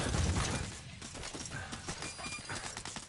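Galloping horse in the video game Wolfenstein: The New Order, with steady clip-clop hoofbeats running throughout and a brief whinny near the start, fairly loud against game noise.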